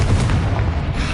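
The Confringo explosive spell from Hogwarts Legacy detonates with a dense, rumbling boom that stays loud and low-heavy throughout, with no gap or quiet moment.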